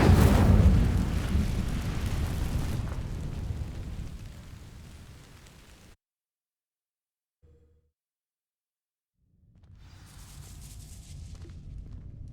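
A fire spell in Hogwarts Legacy bursts into a loud roaring blaze over dry vines, crackling and fading away over several seconds before a short silence and low ambient game sound returning.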